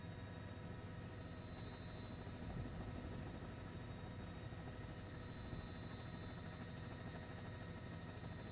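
Helicopter lifting off: a faint, steady rotor and engine drone that holds an even, distant tone without any break.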